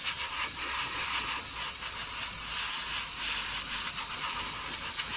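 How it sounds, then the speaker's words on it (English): An airbrush hisses steadily, spraying thinned LP65 paint onto a 1/48 scale Arma Hawker Hurricane model kit, a continuous close airy spray with no talking. "Paintbrush full of LP65, bit of thinners, nice even coverage from the airbrush."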